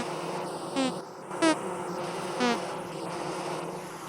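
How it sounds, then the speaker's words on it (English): Bees drone in a video game, the steady buzz rising in three short louder swells over a constant hum, with no talking. "Watch the bees."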